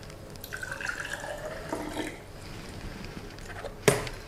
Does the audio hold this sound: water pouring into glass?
yes